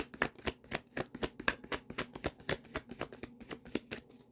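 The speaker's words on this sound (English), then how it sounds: "Let's get 3 more cards for you, Cancer." Tarot cards shuffled by hand in a fast, even run of crisp riffling flicks and slaps, close and loud, about ten quick bursts with no voice over them.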